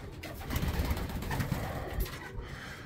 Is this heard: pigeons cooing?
yes